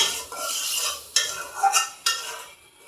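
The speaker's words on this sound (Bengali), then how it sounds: "মশলাটাকে ভালো করে কষিয়ে নিতেছি" Spices with plenty of garlic and onion being stirred and sautéed in a pot for a dried fish, aubergine, potato and tomato curry, with close scraping strokes and soft sizzle in several bursts.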